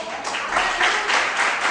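Congregation clapping at a church worship service, a steady dense wash of applause with rhythmic pulses throughout the short stretch.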